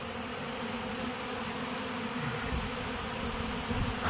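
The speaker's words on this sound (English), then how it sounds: "Yeah, a bunch of bees." A swarm of honeybees moving into a custom hive buzzes steadily and densely throughout, close and continuous with a slight swell near the end.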